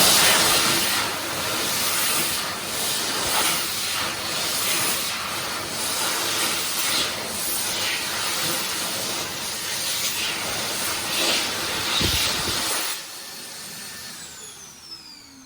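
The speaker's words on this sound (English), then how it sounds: "This one doesn't have a squeal, but does have a light grinding sound at the end of the shutdown." A UO2 hand dryer in a supermarket toilet running with a steady airy whoosh, then shutting down with a brief light grinding at the end of the run-down before fading to quiet.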